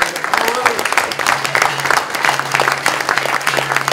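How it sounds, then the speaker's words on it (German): A crowd at a Swiss SVP party anniversary event applauds, with dense, continuous clapping close to the microphone and a low hum underneath. "da ein Applaus jetzt für den Ueli Schlüer in diesem Zusammenhang"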